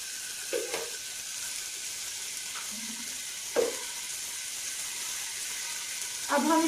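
Beef pieces for karela gosht sizzling in half a cup of hot oil after pressure cooking, a steady hissing fry at moderate level with a few brief clinks and scrapes.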